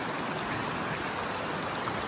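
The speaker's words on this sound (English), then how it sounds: "It's a creek. It's not a stream. It's not a river." Swift Creek flowing steadily near Lake of the Clouds, a soft continuous wash of moving water heard alone at a quiet, even level throughout.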